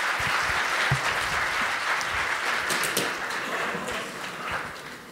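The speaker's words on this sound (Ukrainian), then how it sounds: "Ваші оплески." An audience applauds at a state smartphone-service presentation in Ukraine as the prime minister is invited on stage, a dense burst of clapping that fades slightly toward the end.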